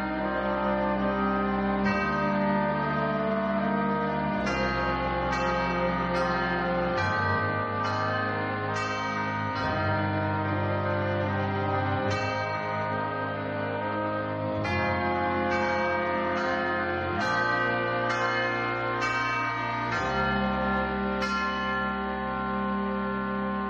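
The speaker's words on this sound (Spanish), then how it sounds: "La campana anuncia el silencio." A church bell tolls repeatedly in a steady, resonant rhythm at evening, each strike ringing out and overlapping the fading hum of the last, with no voices present.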